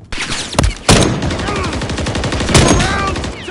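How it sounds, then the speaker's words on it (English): Close, loud automatic gunfire rattles in rapid bursts in the video game Modern Warfare III, with a couple of heavier sharp blasts standing out among the fast repeating shots. "Taking fire!"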